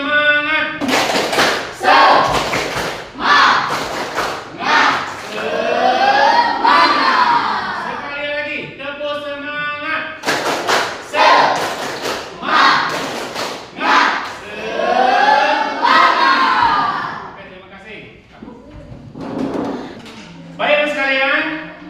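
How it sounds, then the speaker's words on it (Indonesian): A school class stands and performs a rhythmic spirit clap, tepuk semangat, with loud patterned bursts of clapping mixed with group shouting and chanting voices, repeating in two long rounds. "Seperti biasa ya, tepuk semangat tadi ya."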